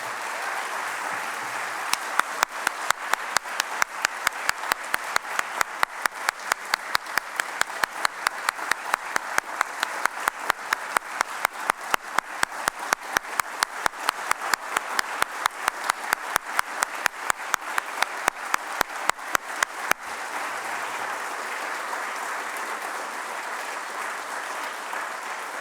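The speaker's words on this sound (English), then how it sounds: "Let's have them out one more time for a round of applause." A seated audience at a university speaker series on civil and human rights gives a long, steady round of applause for the speakers, dense clapping that runs for about eighteen seconds before fading into room murmur.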